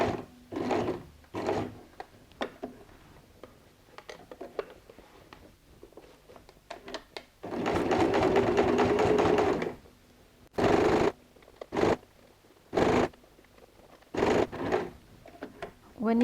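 Domestic sewing machine stitching corners on a quilted cross-body messenger bag with zip closure, in several short whirring bursts, one longer run near the middle, separated by pauses with handling noise.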